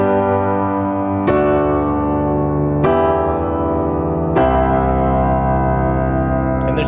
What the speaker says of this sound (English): So if I play all 4 chords without letting up on the pedal, it sounds like this.